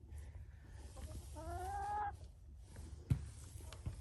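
Chickens in a coop with a heat lamp and roosting bar, one giving a drawn-out, wavering cluck near the middle over a low background hum, followed by a couple of soft knocks.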